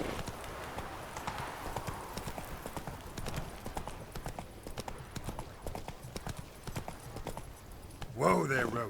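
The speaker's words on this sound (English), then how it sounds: "Whoa there, Roach" Horse hooves clip-clop steadily along a road in The Witcher 3, a continuous close rhythm of hoof strikes with game ambience behind and a brief voiced exclamation near the end.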